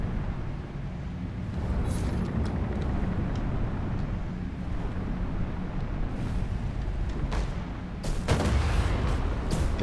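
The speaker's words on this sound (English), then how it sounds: "those are like homing missiles" A barrage of homing missiles launching and detonating in the Cloud Pirates airship battle game, with continuous rumbling blasts and engine roar and a sharp burst of louder explosions near the end.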